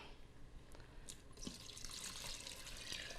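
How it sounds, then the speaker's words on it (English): Broth pours into a soup pot of milk-based sausage, spinach and tortellini soup, a soft steady splashing stream starting after a few faint clinks and continuing to the end, close and quiet. "And now we're going to add in our broth."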